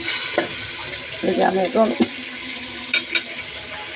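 Fish heads drop into hot oil and set off a steady frying sizzle, with a voice speaking briefly over the crackle.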